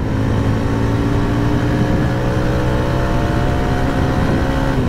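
A 2024 Jawa 42 motorcycle accelerates in fourth gear, its engine giving a continuous, loud, close hum with steady harmonics and no break in the sound.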